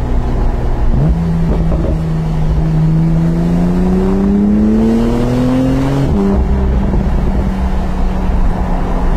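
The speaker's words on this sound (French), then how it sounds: "profiter de la mélodie du flat 6" Porsche 991.2 Targa 4 GTS flat-six revving alone, loud and close, its pitch climbing steadily across several seconds of acceleration before it drops as it shifts, then continues under steady road and wind noise.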